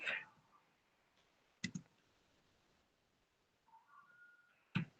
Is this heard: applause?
no